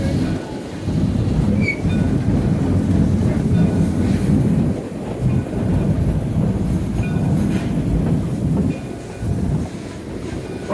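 Tourist train running on rails through the Rocky Mountains, a steady loud low rumble of wheels and cars with faint clickety-clack and brief squeals, continuous throughout without talk.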